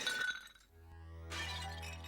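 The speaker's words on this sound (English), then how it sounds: "The ensuing silence was broken only by the sound of shattering plates as they slipped from his useless fingers." Plates shatter as they are dropped, a bright glassy crash with clinking fragments and a ringing tail, fairly faint and alone.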